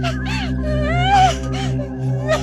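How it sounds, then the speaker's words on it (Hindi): A girl crying in a horror story setting, wavering sobbing wails rising and falling over a steady low droning tone. "ये तो किसी लड़की के रोने की आवाज लग रही है।"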